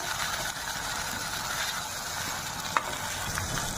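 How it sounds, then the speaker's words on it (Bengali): Onion frying in a pan with ginger and green chili paste, a loud, dense, continuous sizzle close up, with one brief sharp clink partway through. "পেঁয়াজটা আমি হালকা করে ভেজে নিতে পারি।"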